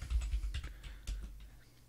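Fingers type a short command on a computer keyboard, a quick close-up run of soft clicky keystrokes that thins out toward the end.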